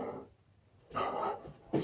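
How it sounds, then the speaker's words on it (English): A pet dog barks indoors, two or three sharp, close barks in quick succession after a brief quiet gap, heard alone without talking. "My dog always waits till there is a video being made to start barking"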